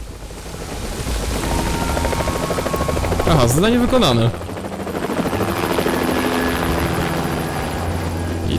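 A helicopter in the video game Splinter Cell: Double Agent, heard during a prison mission as a loud, steady rotor drone with a rising and falling engine whine midway, while someone talks over it.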